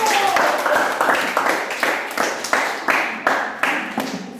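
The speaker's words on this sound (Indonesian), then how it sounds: "tepuk tangan dulu" Students clapping in a classroom, a series of about ten rhythmic, near, loud group claps in a steady beat, with little talk.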